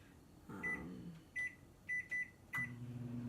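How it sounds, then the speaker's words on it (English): A microwave oven set on high heating a pasta bowl: a door thump and hum start, then four short electronic keypad beeps follow at irregular intervals before the steady low running drone settles in, close and fairly loud. "So I'm popping it in there, and it says to cook on high for 7 minutes"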